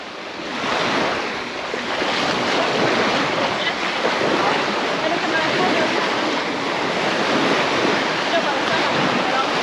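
Ocean surf rolling onto Hua Hin beach below a beachfront hotel, a steady broadband wash of breaking waves with some wind rumble on the microphone, continuous and fairly loud throughout.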